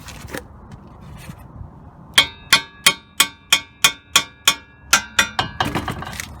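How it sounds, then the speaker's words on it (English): Repeated hammer blows on a steel steering knuckle during a 2003 Nissan Altima 3.5 transmission replacement, about a dozen sharp metallic strikes in a steady rhythm, close and loud, with ringing overtones between hits. "You want to hammer it there on the knuckle and see if that"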